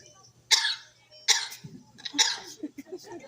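A bird mimics coughing: three short, raspy cough bursts, close and fairly quiet, separated by soft chatter and small noises.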